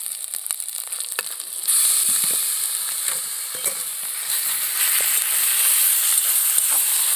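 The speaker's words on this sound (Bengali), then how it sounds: "ভাবানো ওলকপিগুলো দিয়ে ভালো করে কষিয়ে নেবো" Diced kohlrabi and ginger sauté in a hot pan for a paneer-style paratha filling, a steady close sizzle that jumps louder partway through as the pieces go in, with scattered stirring scrapes and no voices.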